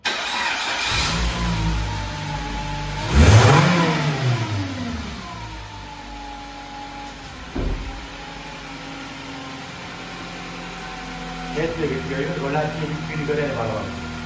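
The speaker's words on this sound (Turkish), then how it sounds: "Ee, aracımız çalışacak mı çalışmayacak mı bakalım." A Suzuki car engine cranks and catches, surging loudly with a rising rev before settling into a steady high idle. A brief second blip follows, and people talk over the running engine.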